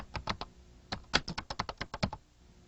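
Someone types on a computer keyboard: about a dozen crisp, close keystrokes in quick irregular bursts, with a short pause near the start and no talking.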